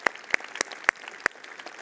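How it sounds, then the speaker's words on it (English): A handful of sharp, separate claps come from a church congregation at a Sunday service, five or so distinct hand strikes spaced unevenly across a couple of seconds in a quiet room. "yes, we can applaud that"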